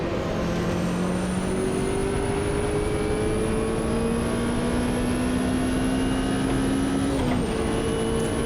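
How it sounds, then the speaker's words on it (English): A boosted 5-litre V8 race car engine in the Automobilista 2 racing game holds a steady, loud drone, its pitch climbing slowly through a long pull before a brief lift and shift near the end. "by the sounds of things. A 5-litre V8"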